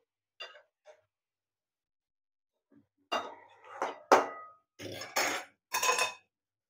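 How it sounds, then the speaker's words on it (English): Metal utensil scraping and clinking against a pan on a low-flame stove as food is stirred, a couple of faint taps followed by several louder clattering bursts with pauses between. "I'm just mixing it around."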